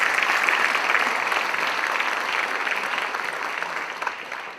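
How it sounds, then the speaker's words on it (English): Steady applause from an audience at a dance memorial gathering, a thick, continuous patter of many hands that fades gently over a few seconds. "You can applaud."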